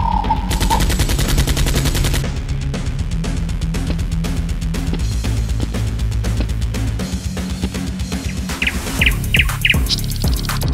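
Nerf blasters firing during a staged Nerf war, a loud dense barrage of rapid sharp pops and clatter running continuously, with a few high chirpy squeaks near the end and no voices.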